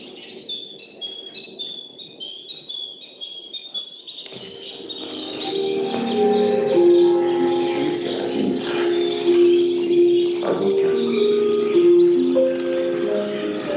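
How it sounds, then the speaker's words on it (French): Small birds chirp and tweet in short repeated calls outdoors, and fuller, louder tonal calls join partway through. "Ça gazouille."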